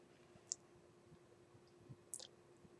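A computer mouse clicking on the Insert menu in Excel, two or three small sharp clicks in a quiet room over a faint steady hum.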